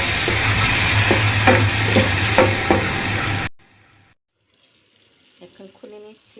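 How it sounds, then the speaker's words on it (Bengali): Spice paste with a splash of water cooking down in a pan for a rohu fish curry, a loud steady sizzle with stirring scrapes for about three seconds before cutting off, followed by faint clinks. "এখন একটু পানি দিয়ে আমি মশলাটাকে কষিয়ে নিব।"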